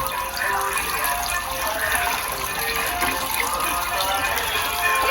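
Water runs steadily from a tap while flowers are washed, a constant close splashing gush with no talk over it.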